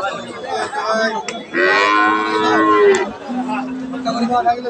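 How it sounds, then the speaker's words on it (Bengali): A large cow at a busy village cattle market gives a long, loud moo in the middle, with crowd chatter and voices of people talking around it before and after. "দেখেন একবারে বেশ বড় সাইজের একটা গরু, 110 চাইছে দাম।"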